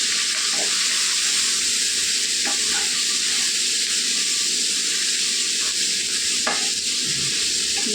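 Amaranth leaves fry and sizzle in hot oil with dried and green chilies while being stirred, a steady close hiss broken by occasional scraping clicks of the spoon, no voices.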